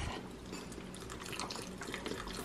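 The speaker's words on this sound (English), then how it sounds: "Finally, we're gonna pour in the beef broth." Beef broth poured into seasoned taco meat in a pan, a steady splashing liquid rush throughout, close and fairly quiet, with no talking.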